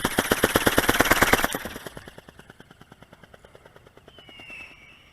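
Rapid rhythmic chopping pulse from a Hanvon GOGOBIRD Brown Eagle 1020 drone, loud and close at first, then fading as it flies away, with a brief swell near the end.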